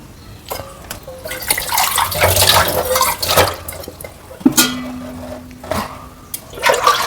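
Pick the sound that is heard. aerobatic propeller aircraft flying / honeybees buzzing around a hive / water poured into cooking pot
water poured into cooking pot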